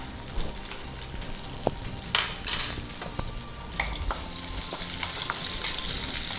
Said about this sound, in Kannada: ಇವಾಗ ಕಾಯಿ ಮೆಣಸು ಹಾಕ್ತೇನೆ